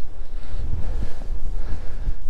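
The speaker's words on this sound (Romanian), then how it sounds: "acum se simte vântul foarte puternic" Strong wind near the summit of Leaota peak in Romania buffeting the microphone in continuous roaring gusts, loud and close, with no other clear sounds.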